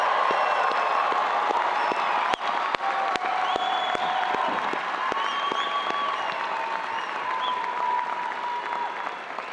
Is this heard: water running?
no